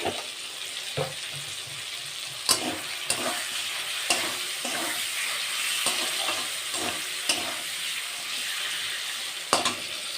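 Tomatoes with a little salt sautéing in a pan for a rohu fish curry with cauliflower, a steady sizzle with intermittent scraping stirs and clicks of the spatula against the pan.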